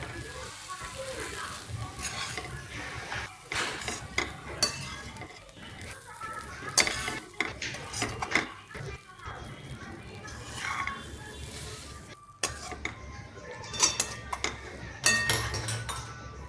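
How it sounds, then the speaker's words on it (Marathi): Hakka noodles tossed with sauce in a hot pan give off soft sizzling with frequent metal clinks and scrapes of a spatula against the pan, irregular and close, with a voice talking over it. "सगळ्या नूडल्स असं परतून घ्यायचं अजून थोडं"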